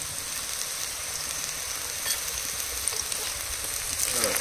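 Garlic, cumin and chilli paste frying with browned onions for a crab curry gives a continuous close sizzle, an even hiss with light stirring and a slight rise near the end.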